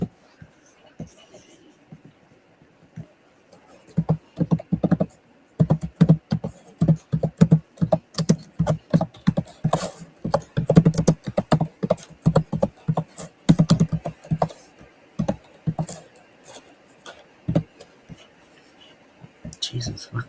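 Rapid, uneven bursts of keystrokes clatter on a nearby computer keyboard, starting after a few quiet seconds and continuing in clusters with short pauses, while a voice is heard at times.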